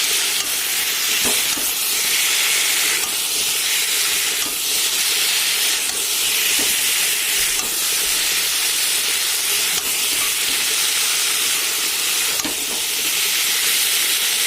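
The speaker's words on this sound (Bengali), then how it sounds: "আবারও ভালো করে কষিয়ে নেব" Egg curry with a little sugar being sautéed in a pan, a constant loud sizzle and hiss with occasional scraping stirs, close and steady with no talk.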